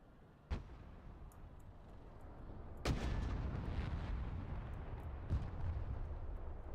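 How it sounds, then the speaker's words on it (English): Artillery fire in the real-time strategy game Broken Arrow: sharp cannon booms go off one at a time, a few seconds apart, each rolling into a low rumbling tail over a constant battlefield bed. "I'm getting a little close with my own artillery."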